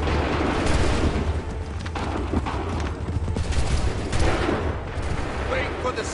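A musket volley erupts in Assassin's Creed 3 amid a British Revolutionary War battle, a dense crackle of rifle fire and booms under shouted orders and voices, loud and fairly continuous.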